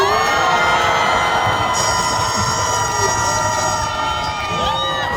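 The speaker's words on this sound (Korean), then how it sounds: "다시 한번 뜨거운 박수 부탁드리겠습니다" A large outdoor crowd on Geumnamno street in Gwangju cheers loudly and continuously after a history lecture, with shouts and whoops mixed into the roar.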